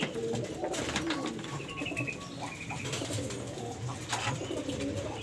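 Pigeons coo steadily at an outdoor bird market in Temanggung, Indonesia, soft layered calls from several birds amid faint crowd noise and rustling.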